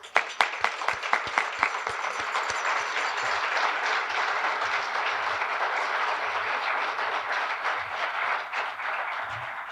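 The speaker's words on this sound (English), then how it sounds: "Let's give a warm round of applause for everyone in this room tonight" An audience at an awards ceremony applauds: a few sharp early claps swell into sustained, dense clapping from a room full of people that carries on throughout.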